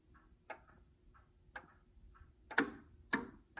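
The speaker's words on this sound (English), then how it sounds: "this is our slave clock" A Standard Electric Time master clock system with its slave clock, giving sharp mechanical ticks and clicks at irregular intervals, close and quiet in a still room, the last two strikes louder.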